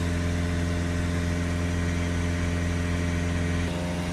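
A Peugeot Boxer 2.0 diesel engine idles during DPF particle filter cleaning, a loud, steady mechanical hum with a constant low drone and a slight drop in pitch near the end.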